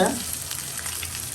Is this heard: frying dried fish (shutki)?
yes